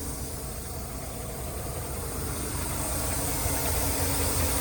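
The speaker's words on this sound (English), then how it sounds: "you can hear that air leak over here somewhere" A steady, close air hiss runs continuously over the low, rumbling idle of a 2011 Mack CXU613 truck with an 18-foot flatbed, the leak seeping somewhere up in the air system with no voices present.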